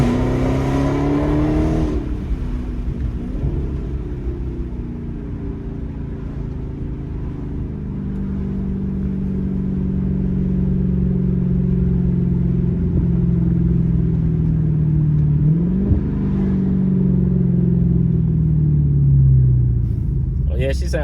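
Dodge Charger Hellcat with a Legmaker exhaust revving at a car meet, a deep, loud, rumbling engine note that swells and falls through repeated throttle blips, nearby with someone talking over it.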